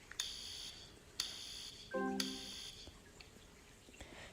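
A household fire alarm gives a few sharp, high-pitched beeps spaced about a second apart, followed by a short lower electronic chime, all faint and alone in a quiet room.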